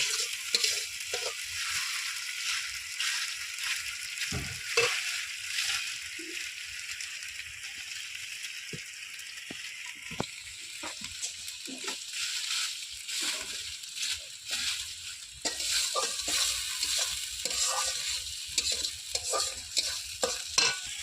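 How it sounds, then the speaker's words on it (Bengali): Minced chicken being stir-fried in a pan with bottle gourd, steady sizzling broken by repeated scraping and clacking strokes of a spatula, close and fairly quiet. "এই কুচি মাংসটা এর ভিতরে দিয়ে দিচ্ছি। এখন সুন্দর করে কষিয়ে নেব।"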